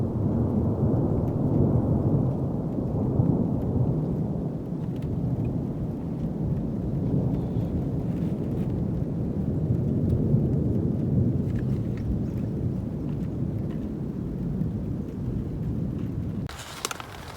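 Steady heavy rain with deep rolling thunder over a forest camp in the Deschutes National Forest, a continuous low rumble for most of the span before a sharp hiss near the end.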